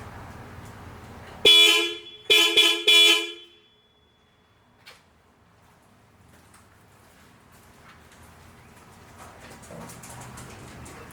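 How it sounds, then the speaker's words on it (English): Farbin dual horns on a 1968 Chevy C10 blast loudly nearby, one long honk followed by two quick bursts, then quiet outdoor ambience with faint background noise. "go ahead and touch the horns and let you hear how loud they are"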